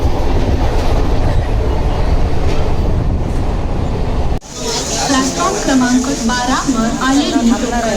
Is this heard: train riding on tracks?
yes